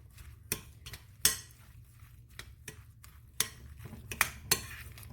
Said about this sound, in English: And now we're going to mix that all together.